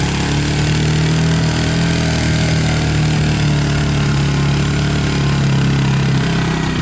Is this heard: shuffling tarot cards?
no